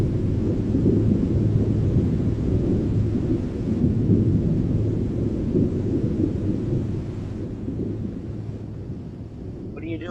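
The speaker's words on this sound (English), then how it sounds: "I don't know why it sounds like thunder in there." A low, continuous thunder-like rumble fills the space, steady and heavy, easing slightly toward the end with a faint knock at the close.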